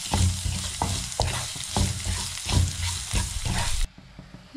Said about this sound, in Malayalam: ഉള്ളിയുടെ കളർ മാറി വരുന്നവരെ നന്നായിട്ടൊന്ന് വഴറ്റിയെടുക്കണം.